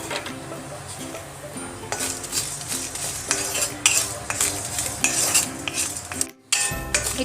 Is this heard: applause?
no